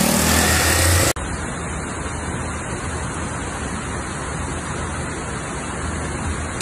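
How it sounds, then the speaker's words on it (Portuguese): Heavy rain pours during street flooding in Campinas, a dense continuous roar of water with an engine rumble at the start before a steady wash of downpour. "tá chovendo muito, hein?"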